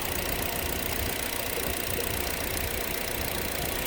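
A cold car engine idles steadily while warming up after a coolant top-up, a constant low rumbling drone with faint knocking texture, close and alone.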